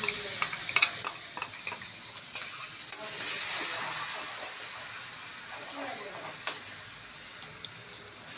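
Asafoetida, turmeric and chilli paste sizzling in three ladles of hot oil for cheese toast, a steady bright frying hiss with faint stirring clicks and no talk.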